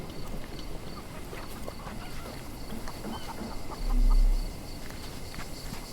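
Bird calls in the Sherlock Holmes Chapter One video game, a faint fowl-like clucking over quiet ambient background, with one louder low call swelling briefly near the end.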